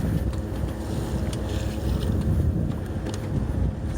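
A sailing yacht motors under full genoa and mainsail off the coast of Wales in light wind, giving a steady low engine drone with water rush and wind buffeting the microphone throughout, no voices.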